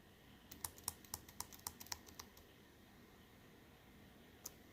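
Keys on a gaming laptop keyboard clack in a quick burst of about a dozen close, crisp taps, then fall quiet before one last tap.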